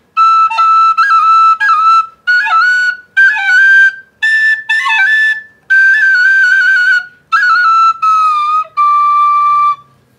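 An Irish tin whistle plays a solo melody up close: a run of bright, clear notes in short phrases with quick ornamental flicks between them, separated by brief breaths, ending on a long held note.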